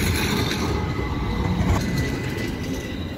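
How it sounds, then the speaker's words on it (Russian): An Istanbul tram runs past at night, a steady loud rumble of wheels on rail with faint squeal and clatter, close by and continuous without talk. "Трамвай ездит."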